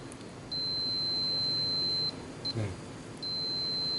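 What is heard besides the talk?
clamp multimeter continuity test beep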